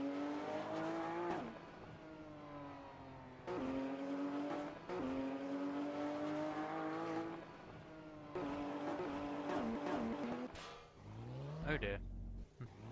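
A CrSk Auto car driven in Garry's Mod, its engine revving up through repeated gear changes with rising and falling whine, close, with a person talking over it and a brief squeal near the end.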